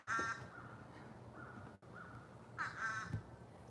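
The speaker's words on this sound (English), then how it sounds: "I wonder what kind of bird that is." A crow caws outdoors in two bursts of harsh, repeated calls, fairly close and clear, with quiet ambient background between them.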